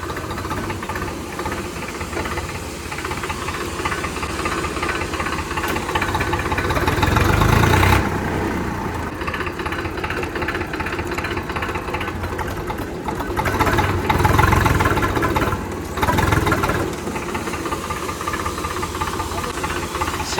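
A Kirloskar diesel engine runs steadily with a rough, knocking throb, loud and close, surging a little louder a few times before settling back.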